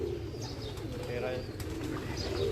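Batera pigeons keep up a dense low cooing murmur with scattered faint chirps, close and continuous, under a voice talking nearby.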